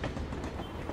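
Steady rumbling subway train noise from The Amazing Spider-Man 2 video game, a continuous low roar filling the short moment with no talk.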